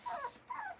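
A very young puppy whimpers twice, thin high-pitched whines that rise and fall, close and fairly soft, with a short pause between them.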